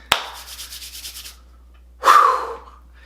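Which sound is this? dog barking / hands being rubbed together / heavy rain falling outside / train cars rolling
hands being rubbed together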